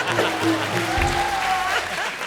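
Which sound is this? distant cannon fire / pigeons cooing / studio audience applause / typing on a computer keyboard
studio audience applause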